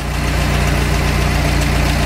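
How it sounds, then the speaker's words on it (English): A 1968 Commer 2500 van engine idling smoothly at low revs, a steady, close, loud mechanical hum and throb with no change in pitch and no voices. "Presently idling at about 500 or 600 RPM, nice and smooth."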